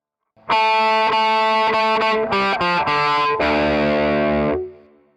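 A slow, distorted electric guitar plays a solo alone, single notes ringing out one after another before a final sustained note fades away.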